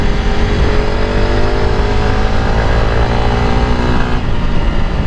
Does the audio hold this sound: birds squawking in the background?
no